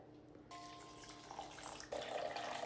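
Warm water pours into active sourdough starter, a soft splashing trickle that starts after a moment of quiet and swells louder toward the end, faint and close with no talking.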